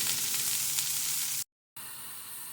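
Grated radish stir-fries with onion and green chili in a pan, a steady close sizzle that cuts out briefly and then resumes a little quieter.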